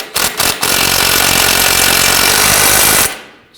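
Rapid ratcheting or impact-tool noise while a ball joint bolt on a 2009-2017 Volvo XC60 front lower control arm is tightened with a 17mm socket, loud and close, a few short bursts then a steady run cut off abruptly.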